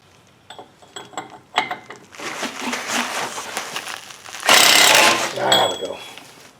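A ratchet turns a 1/2-inch drive 2 5/8 lock nut socket on the hub of a 1995-97 Ford F-250, making close clicking pawl bursts and metallic clanks with louder grinding passages, and a person speaks between them.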